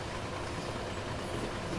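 Class 66 diesel locomotive running in Train Sim World 6, a steady, dense rumbling drone that holds unchanged throughout, with no talking over it.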